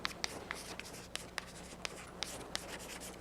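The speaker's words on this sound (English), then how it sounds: "So I will write again here the" Writing on a board during a mathematics lecture, heard as faint, evenly spaced taps and scratches over a steady room hiss, with no voice in this stretch.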